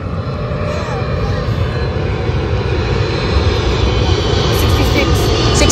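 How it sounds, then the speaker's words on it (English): An airplane passes overhead near a coastal camping area, a steady, loud engine roar that holds and builds slightly over several seconds, with voices faintly underneath. "And of course, the airplane."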